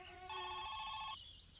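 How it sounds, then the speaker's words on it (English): Telephone ringing inside the video game My Summer Car, an electronic bell trilling in a steady rapid pulse for about a second, then cutting off, heard at close range and fairly quiet. "Is that the phone ringing?"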